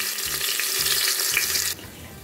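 Garlic with a little salt frying in a pan on the stove, a steady bubbling sizzle with faint watery crackle that carries evenly and drops off near the end; no one speaks.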